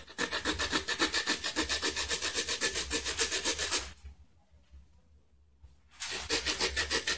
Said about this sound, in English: use a hacksaw, you could use a rock or whatever. So I'm just going to cut it.